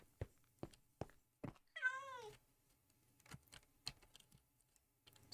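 A single clear meow from a cat in a modded Minecraft world, rising and falling, set among quiet, sharp keyboard clicks and soft taps.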